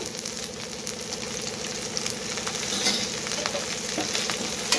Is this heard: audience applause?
no